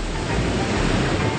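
Sea waves washing ashore in an animated children's show: a steady, loud broadband surf wash fills the whole short stretch without pause.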